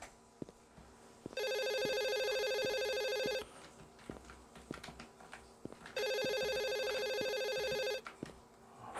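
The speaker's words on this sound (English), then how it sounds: "Phone." An office telephone rings in the game Office Ghost, two long electronic bursts of bright trilling rings separated by a pause, loud and close over a quiet background with a few small clicks.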